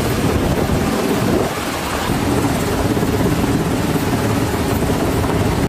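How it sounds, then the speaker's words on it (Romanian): A coast guard rescue helicopter hovering over floodwaters, its rotor thrumming loud and continuous for several seconds, broad and rough with a brief dip partway through. "Paza de coastă a intervenit cu elicopterele pentru a recupera mai mulți oameni din mijlocul puhoaielor."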